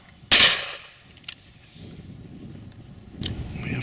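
A shotgun fires once at a pheasant and partridge shoot, a sharp loud crack with a fading tail, followed by a fainter distant report and wind noise in an open field.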